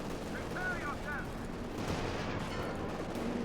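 Gunfire in a Company of Heroes 2 battle between tanks and anti-tank guns: rattling, crackling bursts of shots and distant booms under an excited commentator who keeps talking over the game sounds.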